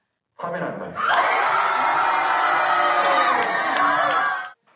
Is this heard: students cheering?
yes